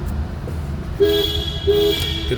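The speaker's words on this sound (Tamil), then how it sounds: "ஹாரன் அடிங்க" A vehicle horn sounds twice in short, steady blasts over a loud rumbling engine and road noise.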